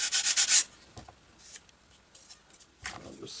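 Sandpaper rubs along the edges of a balsa wood glider frame, a burst of quick close strokes at the start, then fainter intermittent scrapes and a final short run of sanding.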